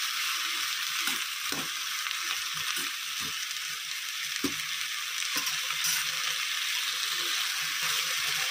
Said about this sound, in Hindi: मटर को फ्राई करना है, अच्छे से फ्राई करना है इसे